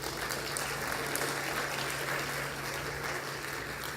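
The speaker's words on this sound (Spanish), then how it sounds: "vamos a recibirla con un aplauso" Audience applause welcoming a speaker onto the stage at an education symposium: steady, fairly faint clapping from a crowd, continuous throughout with no breaks.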